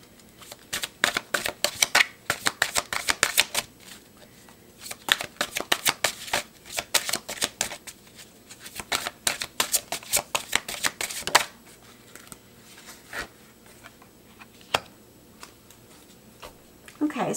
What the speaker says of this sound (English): I really like these cards, but they are so hard to shuffle.